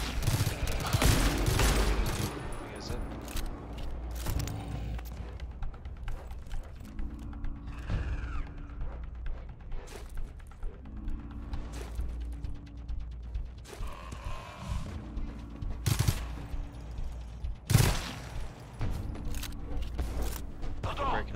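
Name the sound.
sentry guns firing at an enemy wave in the video game GTFO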